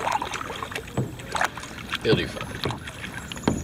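A kayak paddled on the Yadkin River, with soft water splashes from paddle strokes every second or so and steady outdoor wind, while someone talks over the paddling.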